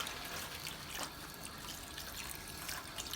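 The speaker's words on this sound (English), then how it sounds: "this water is cold. So we're going to rinse it now." Cold tap water runs steadily over homemade butter being rinsed clean, producing a soft, continuous hiss of flowing water at low volume.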